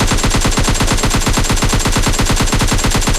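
Rapid automatic gunfire from the video game PUBG Lite rattles in one loud, continuous burst of evenly spaced shots lasting about three seconds, with no voices over it.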